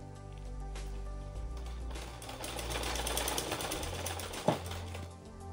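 A sewing machine runs steadily while stitching along the edge of a trouser front pocket, a continuous close mechanical whir with a brief sharp clack near the end.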